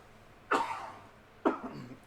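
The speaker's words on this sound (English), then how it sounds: "I got a scratchy throat, so you might hear a lot of coughing." Two harsh, close coughs from a scratchy throat about a second apart, each a sudden burst that trails off, with quiet in between.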